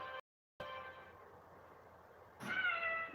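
A cat meows close by, a drawn-out cry, a brief silence, then another rising meow, quiet room behind it.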